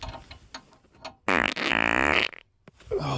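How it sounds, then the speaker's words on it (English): A man lets out a long, loud, buzzing fart lasting about a second, followed by a shorter burst. It is close and alone, with quieter ticking and rustling before it. "farting always cheers me up."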